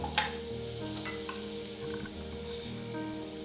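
Chopped onion softening in a pan for a vegetable soup, giving a soft, steady low sizzle with a few light stirring scrapes, close and continuous with no talking.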